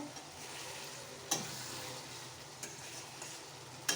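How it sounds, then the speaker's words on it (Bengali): Spice paste fries in a pan ahead of chicken, making a soft, steady sizzle with a few light clicks of a utensil, faint and without voices. "বাবান মশলা দিয়ে দিয়েছে মশলাটা কষিয়ে নিচ্ছে"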